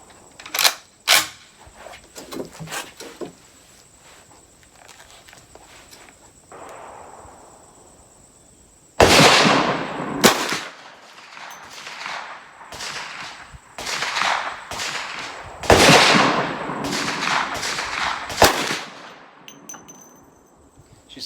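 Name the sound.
first gunshots from Ruger M44 carbine rifle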